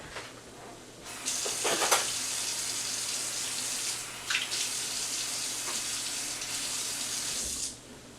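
A tap turns on and water runs steadily and close for several seconds, with brief splashes partway through, then cuts off near the end.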